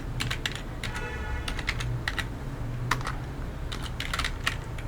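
Quick bursts of keystrokes on a computer keyboard while a code comment is entered, crisp clicks in short irregular runs separated by brief pauses, fairly quiet and close.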